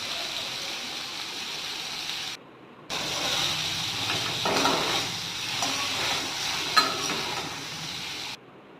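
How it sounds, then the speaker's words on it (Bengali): Pieces of pointed gourd (potol) fry in oil with salt and turmeric, giving a continuous close sizzle that briefly drops out near the middle and again at the very end, with no talking. "পটলগুলি একটু নুন আর একটু হলুদ দিয়ে ভালো করে ভেজে নেব।"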